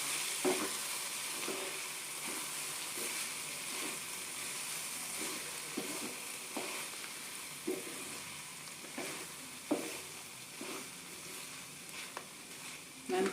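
Melted cheese and vegetable pizza topping stirred in a hot pan, a constant bright sizzle with regular scraping strokes of a spoon throughout.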